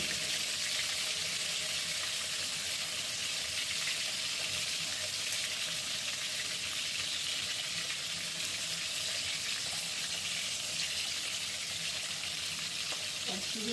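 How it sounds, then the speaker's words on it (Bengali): An egg frying in a pan gives a continuous, even sizzling hiss throughout, fairly loud and steady, with no speech over it. "তারপরে দেখো ডিমটাকে ভাজা হয়ে গেছে"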